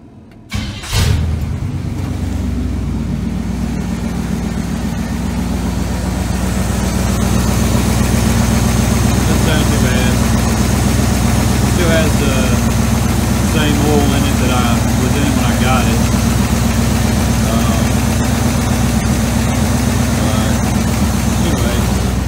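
A 1972 Chevrolet C10 pickup with a turbocharged LS engine cranks and fires up, then settles into a loud, close, steady idle with a deep rumble that holds for the rest of the stretch.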